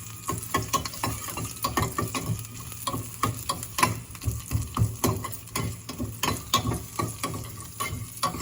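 Curry leaves, green chillies and crushed garlic fry and sputter in hot oil for a Telugu rasam tempering, with steady close sizzling and irregular crackling pops and stirring scrapes throughout.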